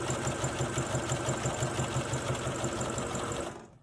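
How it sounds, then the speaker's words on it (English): Sewing machine running steadily, stitching bias tape together along the edge of a cloth face mask with ties; a continuous, close, even whir and rapid needle chatter that stops abruptly near the end. "You're doing this primarily to stitch down that bias tape together, sandwiching it together."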